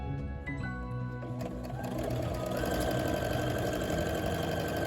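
A sewing machine stitches around the band of a fabric elf hat, a fast steady mechanical whirr with a buzzing motor hum that builds slightly and continues without pause.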